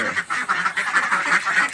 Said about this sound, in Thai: ลูกเป็ดตัวเล็ก